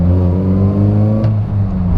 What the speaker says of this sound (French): Et pour autant, je peux vous dire que quand vous accélérez